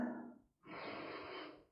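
Two slow, close breaths during a yoga pose, a soft inhale then a longer, fuller breathy exhale, quiet and intimate with no talking.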